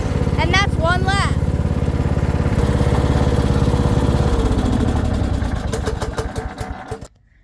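Craftsman riding lawn mower engine running steadily as it drives a lap around a track, a loud close chugging drone with a brief whine early on, winding down and cutting off near the end.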